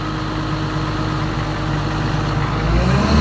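A Komatsu PC200-8 excavator engine at full throttle on a low-power fault: a loud, steady diesel roar with a strong low hum that swells slightly toward the end, close by, with no talk.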